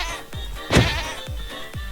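A single short bleat from a goat in Minecraft rises over a faint background with soft repeated thumps, brief and fairly close.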